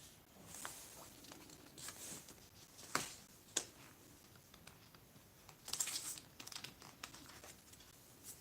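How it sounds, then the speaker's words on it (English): Sheet of paper being handled during a hand-worked geometry lesson, with soft rustles, a few sharp crisp crinkles and a brief crumpling burst near the end, fairly close and quiet, no talking. "I am taking a different sheet of paper."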